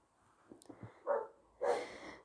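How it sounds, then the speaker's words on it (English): A dog barks at close range: a few soft yips and whimpers lead into two loud, full barks spaced about half a second apart in an otherwise quiet room. "stop barking for 5 minutes"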